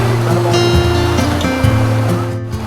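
A waterfall at Araku, surrounded by forest, roars as a steady, loud rush of water with a low engine-like hum running underneath throughout.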